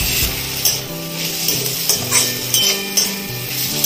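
Potatoes and onions frying in a pan with poppy seeds going in, giving a steady sizzle broken by repeated clinks and scrapes of a utensil against the pan, with no talk.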